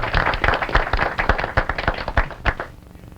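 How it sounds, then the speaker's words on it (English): A dinner audience at an award event applauds, with dense, loud, close clapping that holds steady for a few seconds and then tapers off near the end. "so we may applaud now"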